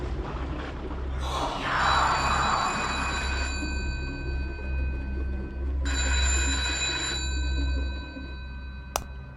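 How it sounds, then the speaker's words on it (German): A telephone rings in two long bursts of bright, jangling bell tones separated by a pause, loud and near over a steady low hum, with a short click at the end. "Wo ist schon wieder das Telefon?"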